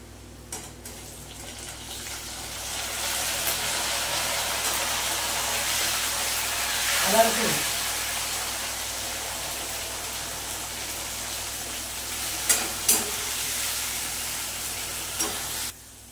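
Chopped tomatoes hit hot oil in a pan of navratan korma, giving a steady broad sizzle and frying hiss throughout, with a few sharp spatula scrapes and clinks against the pan near the middle and end.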